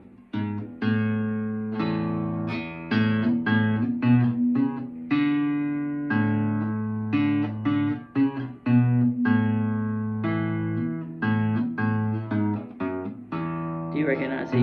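A guitar plays the intro to a song, a steady run of plucked bass notes with chords over them, moving through several positions, close and continuous for the whole stretch with no voice.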